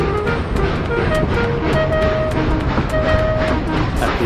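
A steam engine pulls a rake of coaches, an added effect: a continuous loud rumble of wheels and rails with faint whistle-like tones sustained throughout.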